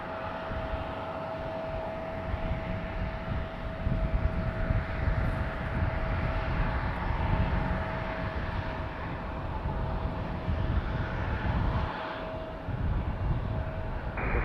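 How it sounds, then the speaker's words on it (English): Airbus A321 airliner taxiing at Raleigh Durham airport, a steady far-off engine roar with a thin whine held throughout, rising slightly in the middle, with no voices. "All right, A321 on the move"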